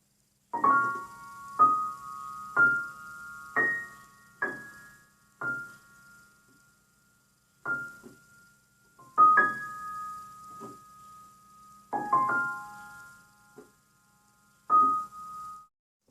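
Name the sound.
piano playing slowly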